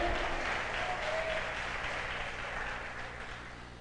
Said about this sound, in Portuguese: aplaude Ele bem forte